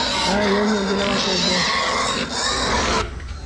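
Many pigs kept on a farm in Mindoro squeal and grunt loudly and continuously, close by, with a person speaking over the noise.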